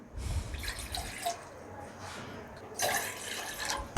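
Two cups of water are poured into a pot on a stove for Sulaimani kahwa, heard as close splashy bursts of running water with a pause midway before a second stream.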